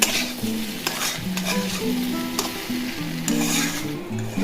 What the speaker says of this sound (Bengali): নেড়ে নিলাম মশলাটা